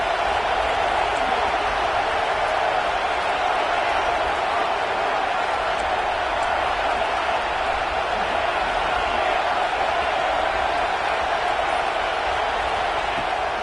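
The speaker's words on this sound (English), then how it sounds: "Here comes this home crowd as the defense tries to get off the field on 3rd down." A home crowd roars at a football game as the defense faces third down, a dense, steady wall of distant stadium noise holding at an even level throughout.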